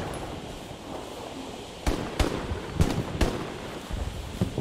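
Gunfire in the World War II shooter Hell Let Loose: four or five sharp, fairly distant shots spaced irregularly over a windy, rumbling battlefield background, with no talk.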